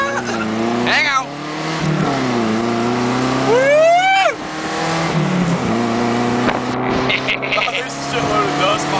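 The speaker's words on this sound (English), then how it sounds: "This is the new Alfa Romeo." New Alfa Romeo car engine revving hard, rising and falling in pitch through several surges with a sharp whining climb midway, heard close with people talking over it.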